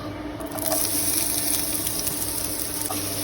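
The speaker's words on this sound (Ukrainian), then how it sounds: "Смажимо лучок" Steady close sizzling of onions frying in olive oil in a pan for mushroom soup, a continuous crackling hiss with no talking.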